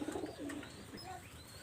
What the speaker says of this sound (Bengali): এখানে এক জোড়া কবুতর দেখাচ্ছি হোয়াইট গোল্ডেন